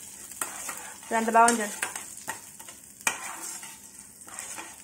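Dried chillies, curry leaves, cumin, mustard seeds, urad dal and chana dal crackle and sizzle in a spoonful of hot oil, with a burst of popping and stirring scrapes, and someone speaks briefly.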